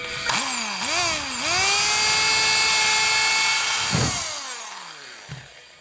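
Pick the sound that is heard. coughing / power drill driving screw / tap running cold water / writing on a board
power drill driving screw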